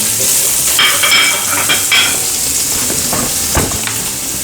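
Onion, garlic and ginger frying in a pan, a loud, dense sizzle with stirring scrapes and a few clattering knocks against the pan near the end.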